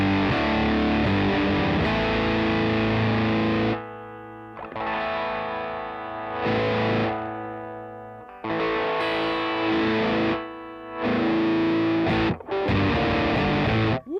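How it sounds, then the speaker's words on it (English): Electric guitar run through a fuzz pedal pushed into heavy distortion, loud and close, with thick sustained chords and riffs broken by several sudden stops and short gaps, no voices. "I would straight up use that as a distortion pedal right there at high noon"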